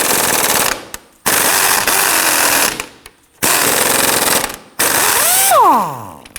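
An impact gun hammers at a rear sway bar link nut on a 2003-2014 Volvo XC90 in four loud, close bursts of rapid rattling separated by brief pauses, the last burst ending as the motor winds down.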